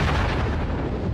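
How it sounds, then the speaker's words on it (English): Explosion effect for a solar flare short circuit: a dense, loud low-heavy roar of blast noise that fills the short moment at full strength without decaying, with no voices. "When they do, they short circuit with a tremendous explosion."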